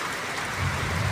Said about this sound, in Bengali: বাইরে বৃষ্টি হচ্ছে, দেখো বাইরে প্রচুর বৃষ্টি হচ্ছে।